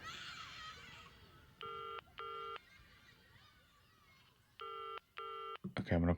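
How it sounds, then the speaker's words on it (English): Telephone busy signal from Pink Floyd's The Wall plays as four evenly spaced bursts of a steady two-tone beep, set in two pairs over a quiet hiss. Brief vocal noise follows at the end. "That sound of the phone, the busy signal."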